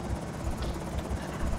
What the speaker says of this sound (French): l'hélicoptère est toujours là